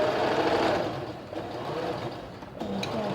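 A sewing machine stitches the overlapped collar onto a kurti neckline in one continuous close run of motor hum and needle chatter, steady and moderately loud.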